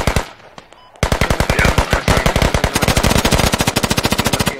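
Automatic gunfire from the tactical shooter game Squad on the Sumari Bala map: a few sparse shots, then sustained rapid bursts with a steady rattling rhythm, loud and close, with no talking.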